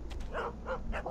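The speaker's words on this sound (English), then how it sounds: "There's dogs over here." A few short dog barks from the World War I trenches of the Iron Storm game, three quick yaps in about a second, moderately close with no voices over them.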